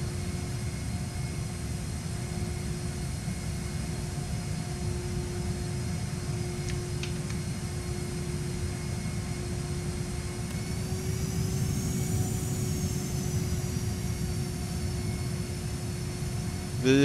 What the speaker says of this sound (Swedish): Som sagt, det är inte direkt ett svårt flygplan att starta.